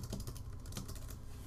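Rapid clattering keystrokes on a computer keyboard, steady and continuous, recorded close with low background hum and no voices.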